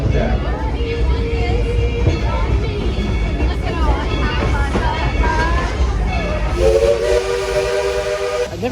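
Steam train ride at Dollywood heard from the second car near the front of the locomotive, with loud steady hiss and rumble and a sustained steam whistle blast near the end, with people talking underneath.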